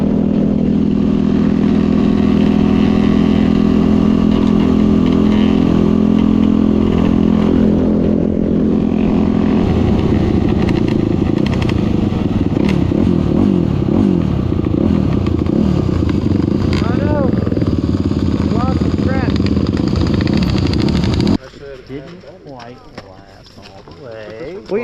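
Loud, steady engine drone from motorcycles on trails at Hatfield McCoy, with a Yamaha towing a broken-down Suzuki. Close wind-buffeted roar runs throughout, then the engine note drops near the end.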